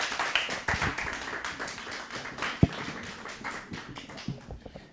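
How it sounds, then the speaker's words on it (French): A studio audience on a French TV show claps in a loose, uneven patter of hands, moderately close, with one sharp louder clap partway through. "Applaudissements."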